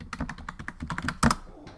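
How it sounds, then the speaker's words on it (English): Quick typing on a computer keyboard while entering a password, a rapid run of light clicks ending in a firmer thunk like the enter key. "That's always fun when you type a password in and it works."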